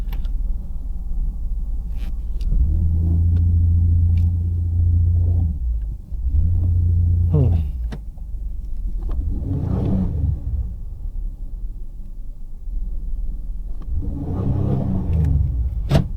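A 1993 Ford Taurus with a no-start and low-power problem idles with a low rumble, then its engine revs up twice in swelling bursts and settles back, close and fairly loud with no talk.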